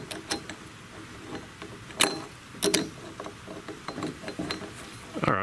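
Metallic clinks and small scraping taps come from a Yamaha rocker arm being worked free with needle nose pliers. The sounds are close and irregular over a low mechanical rumble.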